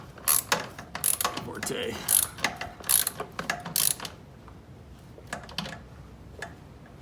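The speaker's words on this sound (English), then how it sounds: "it's called a universal swivel for the socket" Socket ratchet fitted with a universal swivel tightening the belt adjuster on a Fradan self-propelled leaf blower: a close run of sharp metallic ratcheting clicks in short bursts, then quieter scattered clicks and handling noise.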